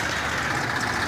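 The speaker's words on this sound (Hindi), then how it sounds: "अब किसान इस ट्रैक्टर को लेकर जा रहा है।" A Massey Ferguson 241 DI tractor, just back from gearbox repair, drives off with a steady diesel engine rumble at moderate volume, continuous and without pauses.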